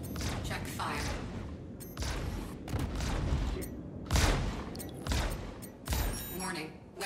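Ship guns, including a Reclaimer's heavy weapons, fire in Star Citizen space combat: dense, loud volleys of booming and crackling shots come in repeated bursts over a constant roar of battle noise.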